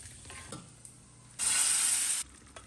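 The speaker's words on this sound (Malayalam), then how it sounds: "സവാള ഞാൻ വഴറ്റാൻ വേണ്ടി ഇട്ട് കൊടുത്തിട്ടുണ്ട്" Onions and tomatoes sauté in a pan, with a few faint stirring clinks followed by a sudden loud sizzle that lasts about a second before dropping back to quiet.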